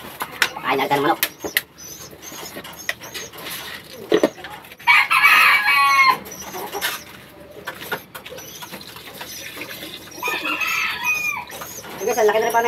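Chickens cluck and squawk close by in scattered bursts at feeding time, with a rooster crowing partway through and a loud flurry of calls near the middle.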